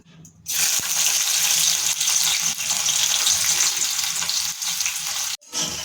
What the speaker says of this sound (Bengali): তেলটা গরম হয়ে গেছে আমি এবার দিয়ে দিচ্ছি একটা শুকনো লঙ্কা আর একটু কালো জিরাটা পরে দেবো আগে দেবো রসুন